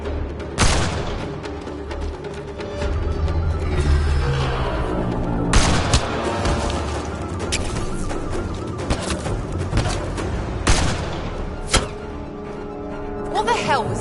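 Gunfire in a PS4 action game: sharp shots and heavy booms burst out repeatedly, some loud and some distant, mixed with shouting voices and a dramatic soundtrack.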